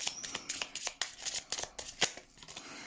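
Oracle cards are shuffled and handled close up, a rapid series of crisp papery flicks and riffles with short pauses between bursts, fairly quiet and without speech.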